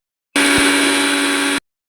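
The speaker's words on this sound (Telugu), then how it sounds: "ఇప్పుడు మిక్సీ పట్టేసుకుందాం అండి." A loud, steady electric whir starts abruptly, runs for just over a second at constant pitch, then cuts off, like a kitchen mixer grinder in a brief burst.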